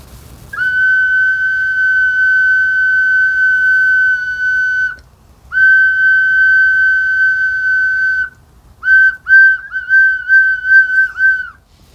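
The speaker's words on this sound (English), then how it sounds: "these little types of whistles are some of the earliest human creations of art" Small handmade whistles give long, steady, pure tones: two sustained blasts of several seconds each, then a run of short choppy toots, loud and close with nothing else audible.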